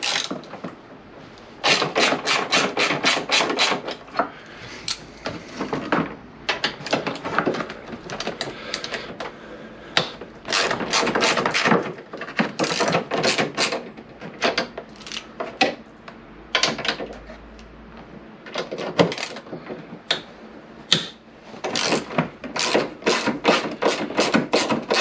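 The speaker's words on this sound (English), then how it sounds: "So next I need to get my Allen socket, and we can get the bolts out for the grab rail." A 6mm Allen socket on a ratchet loosens grab rail bolts on a Peugeot Django scooter, producing rapid, loud bursts of ratcheting clicks repeated again and again with brief gaps, close and without talk.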